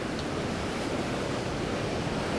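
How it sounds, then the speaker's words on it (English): Sea waves roll in on a rising tide along the shore, a steady, full wash of surf heard close with a breezy rush and no voices. "the tide's coming in, so these waves are definitely coming up further"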